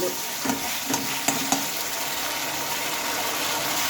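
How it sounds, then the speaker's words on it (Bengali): Ginger-cumin paste and spices stirred as they fry for dal khichuri: a steady, close sizzle with a few sharp spatula knocks early on, then continuous frying hiss. "এই মশলাটা ভালোভাবে আমি নেড়ে চেড়ে নিচ্ছি দেখো"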